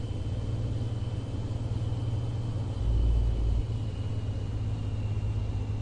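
A Peterbilt 359 flat-top truck with a 1,000 horsepower engine rumbles steadily in American Truck Simulator, a deep continuous drone that swells briefly at the midpoint, with no talking.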